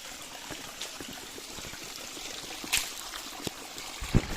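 A river marking a boundary flows outdoors, a soft continuous trickle and rush with a few small knocks and splashes.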